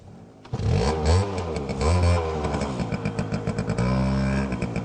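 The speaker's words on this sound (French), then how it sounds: "On va pousser un peu la moto." A motorcycle engine starts and revs unevenly at close range, pitch swooping up and down with rough throttle blips as the bike is pushed along a rough path toward a cave; no talk.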